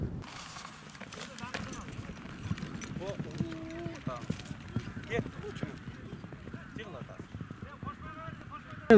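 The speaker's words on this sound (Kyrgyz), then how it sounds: "Ушул ат сатыла турган ат, өзгөчө ат" Hooves of a horse for sale clip-clop in an irregular, fairly close rhythm, heard under someone talking throughout.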